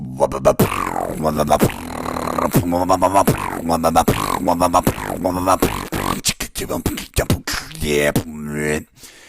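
A voice imitates a dubstep gun, chaining buzzy, pulsing wobble bursts with sharp clicks and a rising whine near the end, loud and close.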